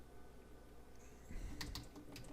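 Quick, soft clicks of typing on a computer keyboard while writing CSS code in Visual Studio 2022, a short burst of keystrokes close by over a faint room hum.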